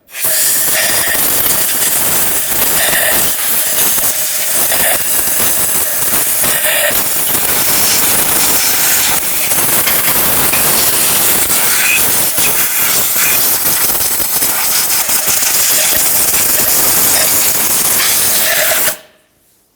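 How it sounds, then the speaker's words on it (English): Compressed air blasts steadily around the valve cover of a 2012-2018 Nissan Altima 2.5L, a loud, continuous close-up hiss lasting about nineteen seconds before cutting off abruptly. "Use some compressed air in the area."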